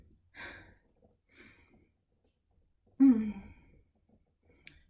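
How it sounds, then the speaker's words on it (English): Heavy breathing during a circus fitness workout: a few sighing exhales and gasps close to the mic, with a strong puffing breath near the middle and quiet pauses between. "I'll stop talking so I can breathe."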